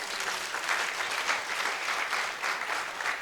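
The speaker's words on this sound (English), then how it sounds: "You may give computer science department a big round of applause." Steady, fairly soft applause from a seminar audience celebrating a computer science department's 20th anniversary, an even wash of many hands clapping throughout.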